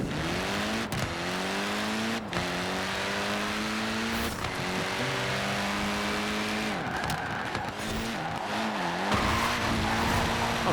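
Fiat Abarth 131 rally car in a racing video game, its engine note rising and falling steadily through gear changes with tire squeal, loud and continuous throughout.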